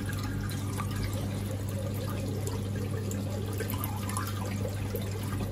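An aquarium filter's outflow pouring water into a fish tank during weekly maintenance, a steady close splashing trickle with a low hum underneath, continuous throughout.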